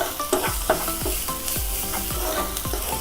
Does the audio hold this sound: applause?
no